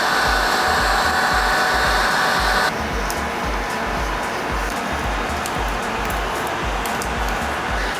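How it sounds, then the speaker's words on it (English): A heat gun blows steadily at close range, softening glue on the trim of a Mercedes G63 AMG; the loud continuous airy roar drops slightly in tone partway through, likely a setting change, and runs without pause. "grab my heat gun, and soften up the glue a little more"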